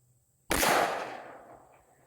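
A single sharp shot from a Mossberg MC1sc compact 9mm pistol cracks out loud and close, followed by a decaying outdoor echo over about a second and a half.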